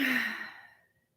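A single deep breath let out as a long, soft sigh, breathy and close, fading smoothly to silence within about a second.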